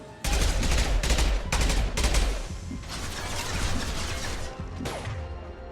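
Bursts of gunfire and a heavy concussive shot in a Mass Effect 2 firefight, several loud rapid volleys at the start followed by sustained crackling combat noise.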